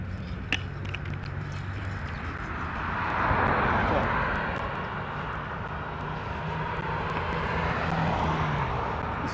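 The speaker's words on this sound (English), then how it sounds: "I see an airplane right there." A fixed-wing airplane passes near an airfield, its engine drone swelling and fading in the distance under steady outdoor noise and wind.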